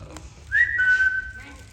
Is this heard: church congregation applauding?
no